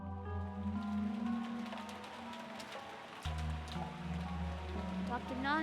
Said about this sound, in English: listening to the sound of the rain until tomorrow morning